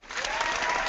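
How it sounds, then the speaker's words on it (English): An audience breaks into applause, the clapping swelling quickly from nothing into a full, steady wash of many hands. "And I'm going to clap one more time."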